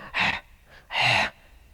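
A voice imitates panting to demonstrate the soft Arabic letter ha: two breathy exhalations, the second longer, separated by a faint short breath, close and alone.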